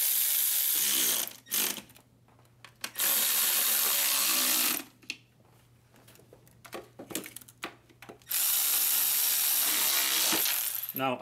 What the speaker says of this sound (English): and then we will torque them down